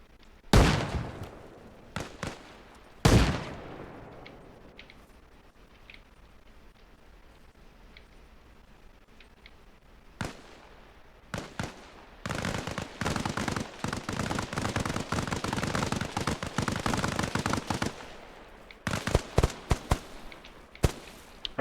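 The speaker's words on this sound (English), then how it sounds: "Throwing a grenade. Frag." Frag grenade blasts and gunfire in the video game Arma Reforger: sharp bursts early on, a quiet stretch, then dense sustained rapid fire with scattered single shots toward the end.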